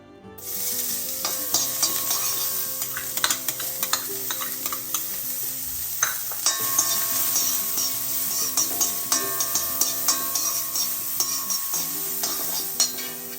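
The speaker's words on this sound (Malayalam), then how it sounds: "ഇനി ഇത് നമുക്ക് ഒന്ന് വഴറ്റിയെടുക്കാം. അതിനു വേണ്ടി കുറച്ച് എണ്ണ ഒഴിച്ചു കൊടുക്കാം. ഇനി ഇതിലേക്ക് സവാള ഇട്ട് കൊടുക്കാം." Sliced onions sauté in oil for a bread and egg dish, giving a continuous bright sizzle close by, punctuated by regular clinks and scrapes of a spatula in the pan, with no talking.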